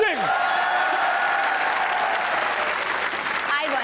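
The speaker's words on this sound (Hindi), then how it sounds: "प्लीज मेरे लिए तालियां बजा दें" Studio audience of a comedy talk show giving a sustained round of applause, loud and even throughout, with brief voices at the start and end.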